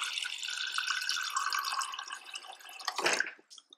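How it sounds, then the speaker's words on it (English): Tap water runs into a cup used for thawing frozen pinkie mice, a steady close stream lasting about three seconds and ending with a brief splashy surge before it stops, no one talking. "So just add some water."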